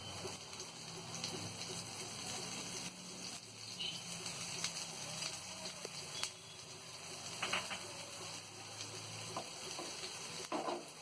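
Shami kababs fry in oil in a pan over a medium flame, giving a steady, soft sizzle throughout with faint crackles and light stirring noises now and then, and no talking.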